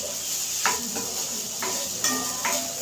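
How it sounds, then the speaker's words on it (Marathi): Sabudana khichdi being stirred and fried in a pan, soft continuous sizzling with a few sharp spoon-against-pan clinks spaced through it, close and fairly quiet. "खिचडी परतण्यावर आहे आपल्या"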